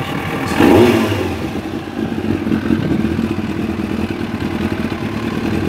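A cold Kawasaki ZX9R engine catches with a loud burst, then settles into a steady, slightly clattery idle close by.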